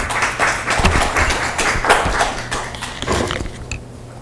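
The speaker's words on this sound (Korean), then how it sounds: "박수로 발언을 맞이하겠습니다." Audience clapping to welcome a parent speaker at a local education forum in Goesan, a steady, fairly loud wash of applause from a room of people that eases off slightly toward the end.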